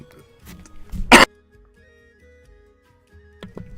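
A couple of short, sharp coughs close by, one loud burst, followed by quiet and a few faint clicks.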